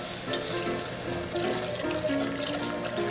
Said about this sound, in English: I'm going to whisk that flour in as I'm adding the beef broth